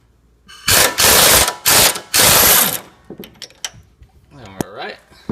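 A ratchet loosening a 7/8 inch nut on the front strut and control arm of a 2003–2006 Infiniti G35, heard as loud, close bursts of rapid clicking, then softer clinks and a short voice.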